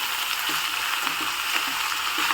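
Ivy gourd (dondakaya) pieces fry in a pan with a steady broadband sizzle and faint irregular stirring clicks, continuous and close, with no talk.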